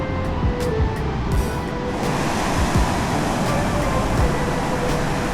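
Ocean waves and swell wash steadily in open water, with a dense continuous rush of surf and some wind noise, and no clear individual breaks.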